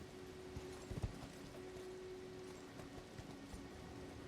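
Horse hooves galloping in the video game Elden Ring, a fairly faint, quick clip-clop rhythm running steadily under a constant background hum.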